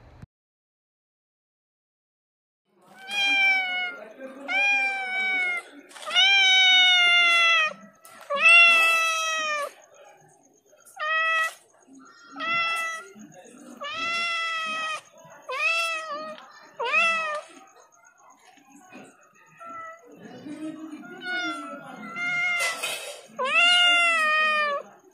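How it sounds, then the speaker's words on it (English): A cat meows again and again in clear, separate calls, some drawn out and wailing, close and loud against a quiet background. "make these meowing noises"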